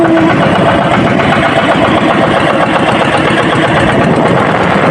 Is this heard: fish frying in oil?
no